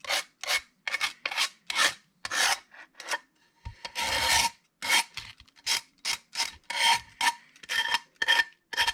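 Old gasket material being scraped off the gas tank cover of a Stihl chainsaw, close rhythmic rasping strokes in quick repeated bursts, one longer grinding pass midway, no voices.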